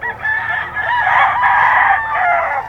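A young stag rooster crows loudly and close, one long sustained cock-a-doodle-doo call stretching across the whole moment with no talk over it.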